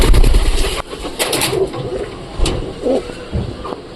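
Pet pigeons kept at home, including a Giribaz breed, cooing softly in a few low throaty bursts, close by, over a noisy background with faint rustling.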